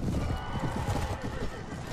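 Horses in a Mount and Blade Warband battle give out neighs and drumming hooves as mounted archers charge. The sound is faint and muffled, with no other sound standing out.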